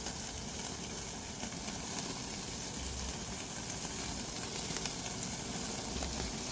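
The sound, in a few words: Wagyu beef sizzling while frying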